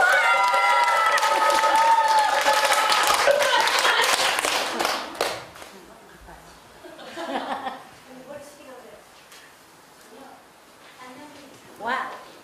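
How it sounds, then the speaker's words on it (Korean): Audience applause at a Korean Buddhist Taego Order temple ceremony, an eye-opening consecration in Changwon, with dense clapping and cheering for the first several seconds that fades into scattered claps and a brief final burst. "큰 박수 부탁드립니다"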